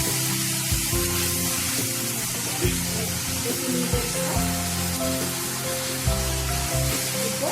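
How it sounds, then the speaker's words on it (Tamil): Ginger garlic paste hits softened tomatoes in a hot pan for Chettinad chicken fry, giving a loud, steady sizzle and spatter. Occasional dull knocks from stirring cut through the frying. "இப்போ ஒரு 2 ஸ்பூன் இஞ்சி பூண்டு பேஸ்ட்டு இதில் போட்டுக்கலாம்."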